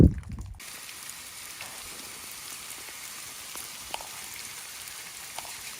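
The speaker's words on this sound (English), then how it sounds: "we've had a little hailstorm today" A dense, steady patter of small ice pellets striking surfaces, fairly faint and continuous, after a brief thump at the start.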